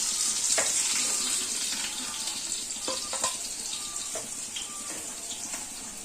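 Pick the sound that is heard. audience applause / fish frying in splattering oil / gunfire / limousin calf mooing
fish frying in splattering oil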